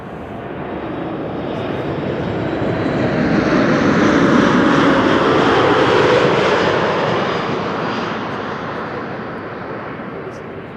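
A jet airliner arriving from Madrid roars over Amsterdam Schiphol Airport near runway 36 Right. The loud broad engine rumble swells to a peak midway and then slowly fades as it passes.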